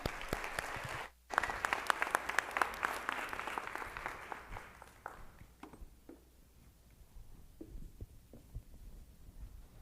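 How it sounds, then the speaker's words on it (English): Students in a school auditorium give warm applause welcoming a speaker, a dense sustained round of many clapping hands that swells loud, then thins and fades to scattered claps. "give him a warm round of applause, welcome him in"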